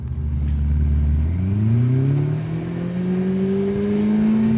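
A Ferrari 488 Pista and a Maserati MC20 launch from a 30 km/h roll in a drag race. Their engines rise together in a loud, climbing wail that builds steadily through the gears, heard close with no talk.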